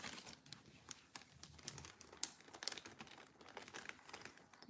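A cat plays with a plastic bag, making quiet, irregular crinkling and rustling with sharp little crackles, faint and close.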